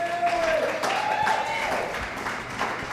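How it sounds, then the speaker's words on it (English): An audience applauds an honoree at a Women of Distinction ceremony, moderately loud clapping running throughout under a voice talking over it. "Let's give her a round of applause, everybody."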